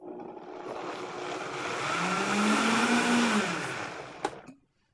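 An electric blender whirs continuously as it mixes melted coconut whipping cream into a thick liquid. The motor's steady roar swells slightly, then cuts off abruptly near the end, leaving near silence.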